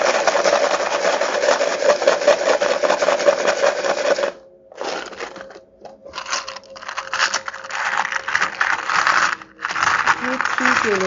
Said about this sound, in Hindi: लेट मी जस्ट एक बार ना मैं शफल कर लूँ